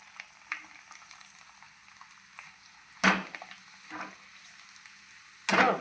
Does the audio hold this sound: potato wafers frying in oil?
yes